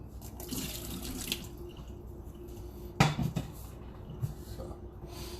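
Tap water runs steadily into a pot in a home kitchen, a soft, continuous splash with a clunk and a few knocks of the pot partway through.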